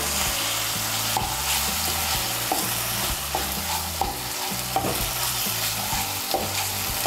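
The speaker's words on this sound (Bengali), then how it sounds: "পনিরটা মিশিয়ে নেব" Crumbled paneer being stirred into fried masala in a pan, a loud continuous sizzle with regular spatula scrapes and knocks, no voices.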